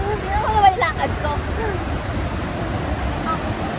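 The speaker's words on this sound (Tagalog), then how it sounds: "medyo mahirap dito kasi napakalakas ng anod ng tubig" A strong river current rushes steadily and loudly in a broad, continuous wash, with some wind buffeting and a voice briefly heard early on.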